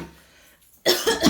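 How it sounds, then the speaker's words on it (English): A woman's dry, harsh cough, like a smoker's, bursts out loud and close after a quiet stretch, in a short rough cluster. "I have this weird cough, and I don't even smoke."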